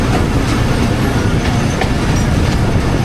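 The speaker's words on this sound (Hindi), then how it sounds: "हमारी 130 डाउन हल एक्सप्रेस इंदिरा रेलवे स्टेशन पहुंच चुकी है।" The Thal Express passenger train rolls into a railway station, a loud, close, continuous rumble of wheels and carriages with faint clacking and no talk.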